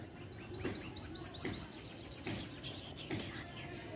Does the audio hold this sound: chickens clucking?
no